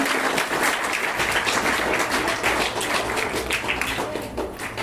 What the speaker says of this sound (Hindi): एक बार जोरदार तालियां उनके लिए भी बजा दें।